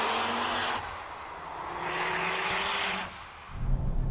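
Ford Focus RS engine pulling hard under acceleration, a steady loud drone that eases off, swells again and then drops to a lower rumble near the end, with no talking.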